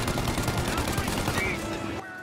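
Rapid, loud gunfire from a shootout at drivers in Mafia Definitive Edition: dense bursts of automatic shots, close and continuous, cutting off abruptly near the end.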